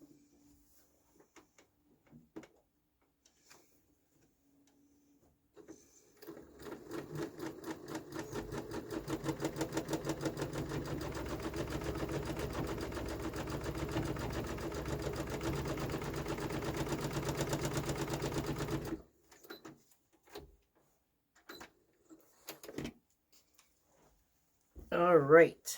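A sewing machine stitches across quilt fabric in a steady, rapid mechanical whir lasting about twelve seconds, preceded and followed by quiet handling clicks and rustles.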